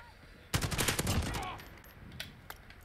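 Rapid automatic rifle fire from a Steyr AUG in a video game, a dense burst of shots starting sharply and lasting about a second, then fading into quieter ambient game noise with a few faint later clicks.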